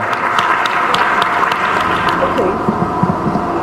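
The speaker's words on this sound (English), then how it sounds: "round of applause to Dr. Lola." An audience breaks into steady, full applause, many hands clapping at once in a dense, continuous patter with a few voices mixed in.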